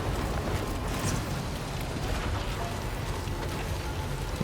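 Rain pours down in Death Stranding 2, a dense, loud, continuous hiss of drops hitting surfaces that holds steady throughout with no voices.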